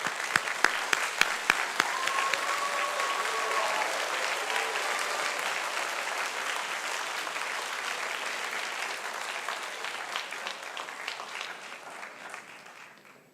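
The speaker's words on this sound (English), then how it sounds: "please face the audience to receive their applause" Audience applauding law school graduates at a 2023 commencement, a few sharp single claps at first, then sustained dense applause from a large crowd that slowly fades toward the end.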